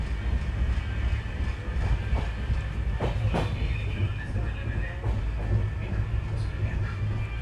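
A steady low rumble and rattle of the Yesvantpur–Latur Express is heard from inside a sleeper coach while it runs, with faint clicks and a few brief knocks over the constant drone.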